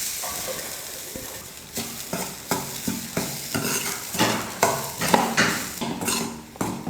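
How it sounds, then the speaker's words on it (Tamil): Grated coconut roasting in a kadai, stirred repeatedly with a spoon, giving a steady run of close scraping, rhythmic stir strokes over a faint dry sizzle, with no one talking. "இந்த ஈரத்தன்மை இல்லாமல் நல்லா கடாயில் போட்டு நல்லா வறுத்து எடுத்துக்கலாம்."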